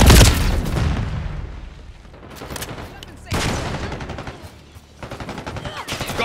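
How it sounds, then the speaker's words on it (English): Gunfire and a frag grenade blast in Call of Duty Black Ops 6 multiplayer: a loud opening boom, then bursts of rapid shots that fade and return twice, dense and close throughout. "Frag going out."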